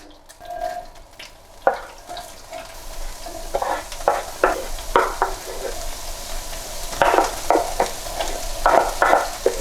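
White onion being stirred in a hot pan, a soft steady sizzle broken by repeated scraping strokes of a utensil against the pan, close and fairly quiet, with no one speaking.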